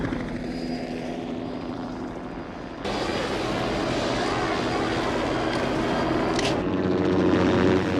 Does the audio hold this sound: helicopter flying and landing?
yes